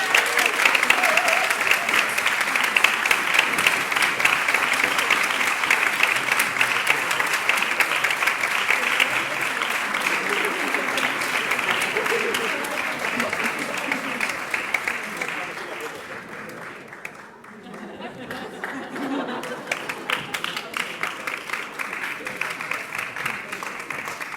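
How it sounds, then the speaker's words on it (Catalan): A large concert audience applauds loudly and steadily for a musician called to the stage at a Santa Cecília concert by the L'Amistat orchestra in Quart de Poblet, dipping briefly near the end before resuming. "Una forta aplaudiment."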